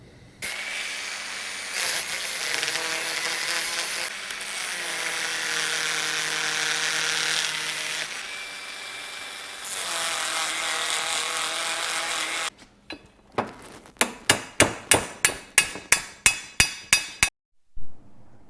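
A motorized grinder runs on parts for a Fastline shifter fix, with a long steady high whine in several stretches, then a series of sharp metallic clinks and taps near the end.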